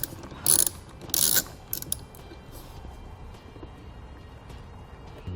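A hand ratchet clicks in two quick loud bursts while loosening 10mm nuts on the positive battery terminal of a 2014 Jeep Wrangler, followed by fainter metallic handling and clinks.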